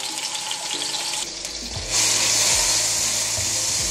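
Garlic hits hot oil in a pan, and the frying swells into a brighter, louder sizzle halfway through, heard close and steady with a few faint low knocks and no talk.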